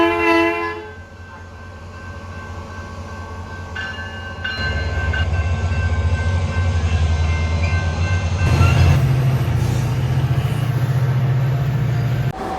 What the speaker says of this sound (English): here's my shot of when I got this train leaving the station